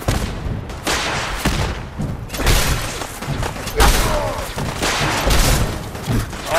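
A missile launcher fires in the Fallout 4 video game amid heavy combat: repeated loud booms and blasts follow each other in quick succession, with a player's voice breaking in between the explosions.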